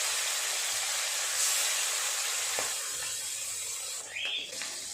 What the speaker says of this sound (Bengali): বাকি মাছগুলো আছে, এগুলো ভাজা করে নেব